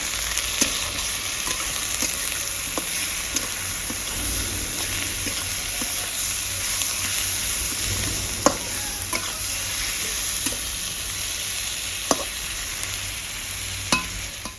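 Tomato fries in a hot pan with salt and turmeric, giving a loud, constant sizzle with occasional sharp clicks of a spoon scraping and stirring, no voices.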